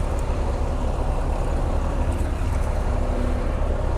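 Traffic on a busy road passes close by, with cars and heavier vehicles such as trucks or buses. It makes a loud, continuous roar and wash of engines and tyres, and no one talks.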